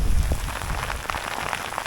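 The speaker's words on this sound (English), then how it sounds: "oh god, it's starting to rain heavy again." A downpour of heavy rain on the road to a Soviet nuclear bunker near Līgatne, Latvia gives a loud, continuous close wash of drops hitting surfaces, with no talking.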